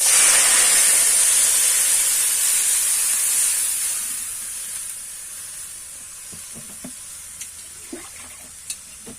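Water poured into a hot pan of fried pabda fish sets off a loud, steady hiss and sizzle that gradually softens, with a few light clinks near the end.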